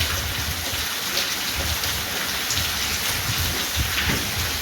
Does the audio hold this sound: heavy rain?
yes